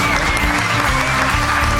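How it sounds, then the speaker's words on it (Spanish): Loud, sustained applause from a standing audience giving an ovation at a Spanish-language radio or stage programme, a dense continuous roar of clapping mixed with crowd noise and some voices, filling the whole moment. "Ovación cerrada, por favor, el público en pie para Alberto Espinosa"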